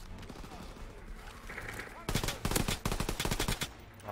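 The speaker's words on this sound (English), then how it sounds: "I'm gonna go back to a submachine gun." Submachine gun fire in a World War II video game comes in loud, rapid bursts of shots that begin partway through, after a stretch of quieter game noise with some talking.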